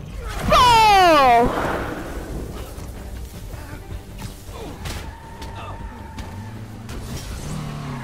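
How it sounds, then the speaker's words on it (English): Reckless car driving in the video game Spider-Man Miles Morales: a loud whooshing rush with a slam or thud, followed by a steady engine drone and scattered impacts, with a character's voice briefly over it. "This is extreme reckless driving!"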